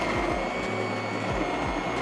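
An immersion blender whirs through a garlicky, creamy coconut soup, a steady close motor drone with a few short shifts in pitch as it dips into the pot.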